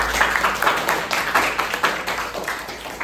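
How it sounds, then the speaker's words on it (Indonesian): A group claps together in a steady patter of applause, moderately loud and lasting throughout, with no talking. "tepuk tangan buat kalian semua"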